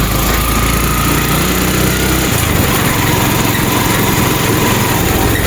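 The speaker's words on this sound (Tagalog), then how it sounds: "May motor." A small motorcycle engine drones steadily and loudly throughout, its pitch dropping slightly partway through, with no other sounds standing out.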